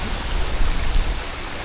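Rain falling on knee-deep flooded ground near a mill, a loud dense patter and hiss throughout the short stretch.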